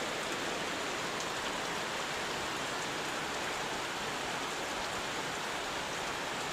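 Rain falling outside on a June morning, a soft, even wash of steady rainfall heard from indoors, continuous and fairly quiet with no talking.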